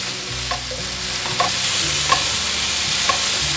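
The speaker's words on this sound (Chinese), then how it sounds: "番茄有炒软了，现在放入红黄甜椒。 快速翻炒" Tomatoes with red and yellow bell peppers being stir-fried in a wok, a steady loud sizzle with a few sharp spatula scrapes and clacks against the pan, no voices.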